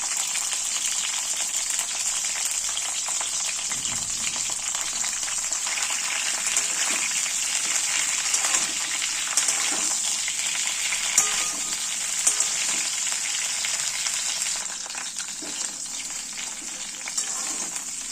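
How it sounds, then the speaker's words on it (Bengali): Cauliflower florets fry lightly in reused oil with a continuous, even hiss. Faint stirring and bubbling rise through the sizzle. "এবার ওই একই তেলে আমি এবারে কফিগুলোকে ভেজে নেব"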